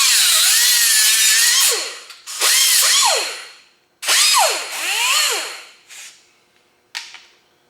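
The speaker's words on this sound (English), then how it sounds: "I'm going to use a cutting wheel. We got all air tools here" Air-powered cutting wheel slicing through a cloth-lined power window track on a 1934 Ford Coupe: loud, close bursts of high whining grind, four main cuts with pitch dropping under load, then two short touches.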